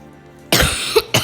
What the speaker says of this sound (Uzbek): Ana yo'tal.